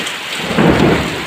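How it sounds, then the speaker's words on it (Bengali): Heavy rain pours down outside a mud-walled house, a dense, loud, continuous hiss with a deep rumble of thunder swelling through the middle. "বৃষ্টি হচ্ছে বাইরে"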